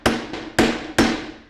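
A 12-ounce hammer drives a nail with three sharp, solid strikes spaced roughly half a second apart, each a loud close impact with a short ringing decay and no voices.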